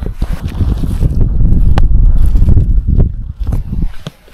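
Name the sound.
strong wind at a mountain campsite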